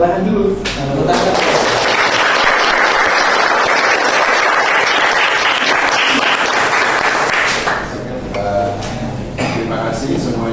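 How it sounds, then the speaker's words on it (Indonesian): Loud, sustained applause from a classroom group after a student project presentation, dense clapping filling about eight seconds before thinning out, with a few voices heard near the end. "Tepuk tangan dulu. Tepuk tangan."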